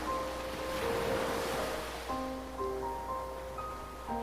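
Ocean waves rolling onto a seashore: a steady, soft wash of surf runs throughout, with sustained musical tones layered over it and no talking.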